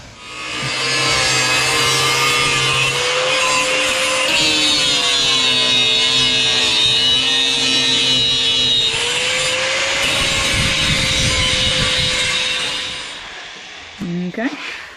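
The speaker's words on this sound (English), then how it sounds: "I'm going to take the grinder and I'm going to grind that off." An angle grinder cuts into a car's pinch weld on an upper radiator support, a loud, steady high-pitched whine and metallic scream that shifts in pitch as the load changes, then stops abruptly, followed by a few clanks.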